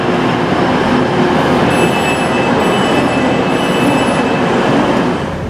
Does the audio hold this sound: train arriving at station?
yes